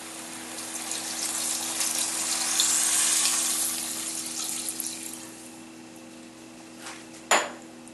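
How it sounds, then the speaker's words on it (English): Water and chicken broth pouring into a cooking pot for a burger recipe, a steady close splashing stream for several seconds that tapers off, ending with a brief clank of the pot. "I'm going to go ahead and add in my water and chicken broth."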